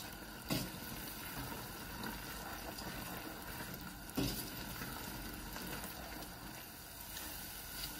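Peanuts and sugar are stirred in a hot pan over high heat, giving a soft continuous sizzle and scraping with a couple of sharper knocks from the utensil against the pan.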